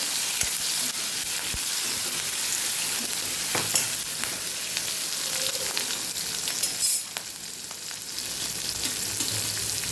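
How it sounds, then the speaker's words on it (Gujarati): Green chillies sautéing in hot oil with mustard seeds and asafoetida, a continuous bright sizzle with occasional pops and stirring clatter, close and fairly steady. "મરચાંને આપણે સાતડી લેવાના છે."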